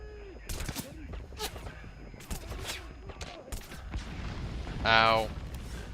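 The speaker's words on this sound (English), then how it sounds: "Why do you have mortars?" Mortar and gunfire from the video game Metal Gear Solid 5 crack out in several sharp bursts, with a louder blast near the end, under a voice talking over the game.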